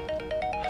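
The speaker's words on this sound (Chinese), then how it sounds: "电话。" Telephone ringtone, a brief electronic melody of short rising tones, heard alone and at moderate volume.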